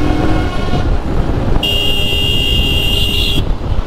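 A vehicle horn blares in street traffic, holding one steady, loud tone for nearly two seconds over the constant hum of engines and road noise from a moving bike.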